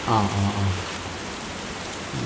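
Steady rain falls outdoors in a rural Kerala setting, a dense even hiss of drops. A voice is briefly heard at the start before the rain carries on alone.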